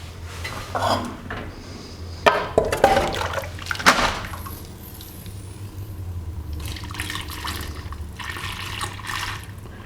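Hot maple syrup poured and filtered on a farm, with liquid splashing and dripping into a container alongside clinks and knocks of a metal pot, followed by a softer trickle.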